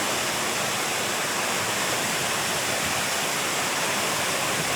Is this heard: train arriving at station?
no